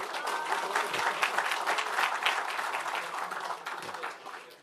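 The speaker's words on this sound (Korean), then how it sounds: "큰 박수 부탁드리겠습니다" A Democratic Party assembly audience applauds its National Assembly speaker candidates with dense, steady clapping that sounds fairly close. The clapping holds at full strength and then gently fades near the end.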